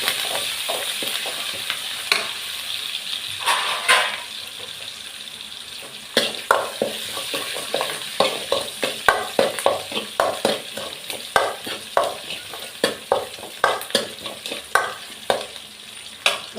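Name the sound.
tempering spices sizzling in hot oil for fish curry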